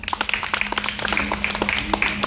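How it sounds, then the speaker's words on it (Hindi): An audience at a school prize ceremony claps for a prize winner, a dense patter of many hands applauding steadily and close, with faint speech underneath. "ताली बजा दीजिए एक बार।"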